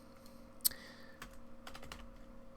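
A few keystrokes on a computer keyboard while coding a first Unity game in C#, one sharp click followed by lighter scattered taps, close and alone.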